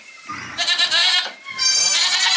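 Young ten-day-old kid goats bleat in close, overlapping high wavering cries, two loud bursts separated by a brief lull.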